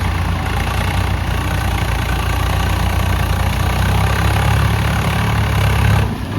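A tractor engine idles in a paddy field with a steady, loud low rumble that holds unchanged throughout, with no talking.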